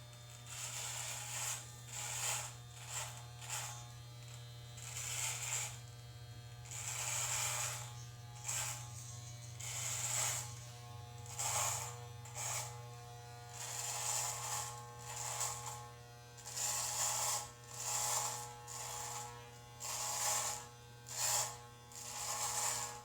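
An electric beard trimmer cuts through a long beard, a close steady motor buzz under repeated bursts of crisp clipping as the blade passes through hair.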